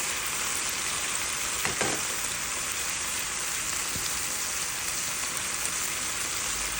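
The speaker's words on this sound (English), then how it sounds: "I'm going to leave it there, let it saute for a little bit" Onions, tomatoes and peppers sautéing in a pan give a dense, constant sizzling hiss with a couple of faint stirring knocks near the start, steady and close with no voices.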